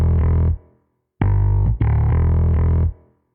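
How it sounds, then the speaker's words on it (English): Rock bass line from the UJAM Slap virtual bass, heavily EQ'd with light compression, playing two sustained, gritty phrases with a brief gap between them, loud and alone with no drums or voice. "So for the bass I have this bass line."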